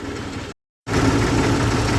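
A Massey Ferguson 35 tractor engine runs steadily at close range, a dense continuous rumble with a low idling throb, interrupted by a brief silent gap before resuming just as loud.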